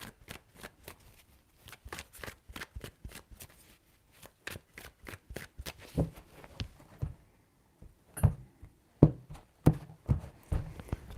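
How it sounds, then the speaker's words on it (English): Tarot cards are shuffled in quick, rhythmic snapping riffles, close by and clear at first, then growing looser and more irregular with louder thumps toward the end, with no voices. "Three shuffles."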